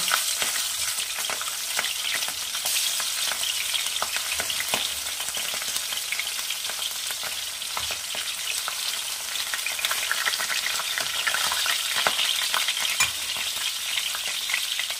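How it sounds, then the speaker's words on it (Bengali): Catla fish belly pieces coated in salt and turmeric fry in hot oil, giving a loud, even sizzle peppered with sharp crackles and pops that runs unbroken for fifteen seconds with no talking. "আমি কাতলা মাছের এই পেটিগুলো নুন হলুদ মাখিয়ে রেখেছিলাম, এগুলো সব ভেজে নেব।"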